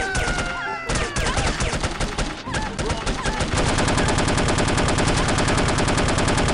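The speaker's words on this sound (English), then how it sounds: "he's got a machine gun" Rapid machine-gun fire and gunshots in the video game No One Lives Forever, loud and dense, first in mixed bursts and then a steady, fast automatic stream to the end.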